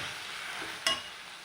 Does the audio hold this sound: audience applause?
no